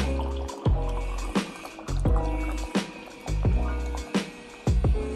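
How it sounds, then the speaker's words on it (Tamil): Water glugs in repeated bursts as it is poured into a tumbler up close, each pour rising and falling in pitch. "நம்ம இந்த இந்த டம்ளர் ஃபுல்லாக நம்ம தண்ணி ஊற்றி பார்ப்போம்"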